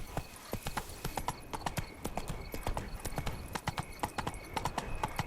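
Roach the horse gallops in The Witcher 3, with rapid rhythmic hoofbeats clip-clopping steadily and fairly close, heard alone without talk.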